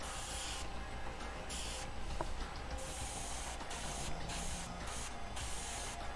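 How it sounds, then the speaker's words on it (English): Steady hiss of an airbrush spraying paint onto a 1/8th scale Scavenger Speeder model at medium pressure, continuous and close with brief pauses in the airflow, no talking. "Michael says, what's the PSI you're using on the airbrush?"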